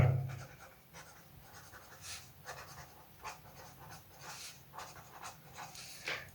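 A pen writes a definition on paper, giving dense, steady scratching strokes with short pauses between them, close and fairly quiet, with no talking.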